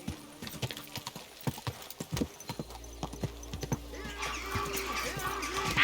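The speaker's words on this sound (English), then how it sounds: "Your horse nearly trampled me." A horse in the video game Kingdom Come Deliverance 2 clip-clops along in a quick, uneven run of hoofbeats, close and distinct, with a rising rush of wind and background noise near the end.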